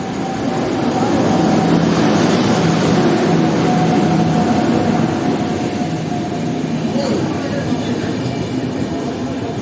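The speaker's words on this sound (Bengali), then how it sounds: "এই যে ট্রেন ঢুকে গেছে।" A train pulls into a station on a Darjeeling trip, its loud, steady rumble of wheels and carriages rolling close by, with faint squeals and clatter throughout.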